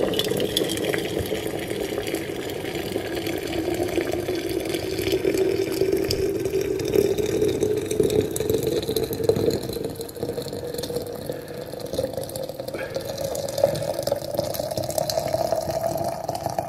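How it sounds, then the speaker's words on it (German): Boiling water being poured into a thermos flask containing a dishwasher tab, a continuous hollow gurgling pour whose pitch slowly rises as the vessel fills, heard alone and fairly close. "dann sollte man ihn mit kochend heißem Wasser auffüllen."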